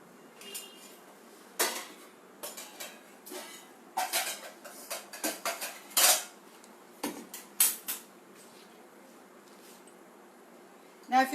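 Vegetable pulao is spooned onto a metal thali, giving scattered clinks and scrapes of a spoon against metal, close and intermittent, with quiet gaps between the clusters of taps.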